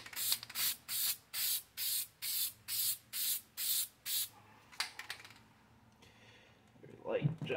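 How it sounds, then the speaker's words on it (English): An aerosol spray paint can hisses in nine evenly spaced short bursts, each about a third of a second, followed by a few scattered quieter sprays and some handling noise near the end. "you get some practice for when you're spray painting your rifle or your tripod"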